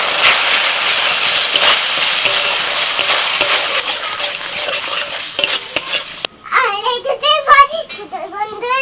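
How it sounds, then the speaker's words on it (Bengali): Ground turmeric, red chilli, Kashmiri chilli and coriander powders fry in a pan with steady, loud stirring and dense sizzling. It quiets suddenly near the end, giving way to high, warbling voice-like sounds. "মশলাটা ভালো করে ভেজে নিই"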